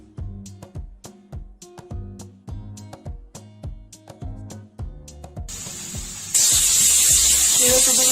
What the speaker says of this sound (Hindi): और फिर स्टीम को अच्छे से रिमूव होने ले देंगे।